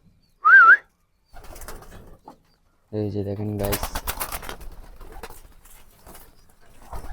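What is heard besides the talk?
pigeons cooing at feeding time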